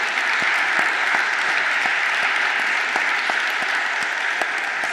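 A conference audience gives a panel on art and activism steady, full applause, a continuous wash of many hands clapping evenly for the whole stretch, close and sustained without letting up.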